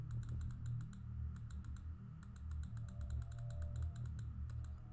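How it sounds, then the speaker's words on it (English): Rapid clicking in a game, sharp repeated taps in quick irregular bursts over a low steady hum, close and fairly loud with no talk. "I'm clicking through real quick"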